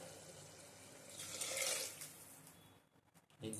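Steady running water pours and splashes into a pot for a few seconds, swelling in the middle, then trails off into a few small drips and clinks.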